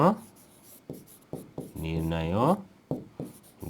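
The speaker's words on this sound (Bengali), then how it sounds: "এবার লিখবো" Pen strokes scratch out the solution to a math problem on paper in short, close bursts, followed by one longer continuous stretch of writing. A voice talks throughout.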